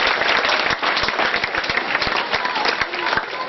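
Schoolchildren and guests clap for a departing teacher, Sir Naseer, at a farewell ceremony at Govt High School Kala Ghumana, Sialkot. The applause is a dense, steady roar of many hands, close and lively, with sharper individual claps.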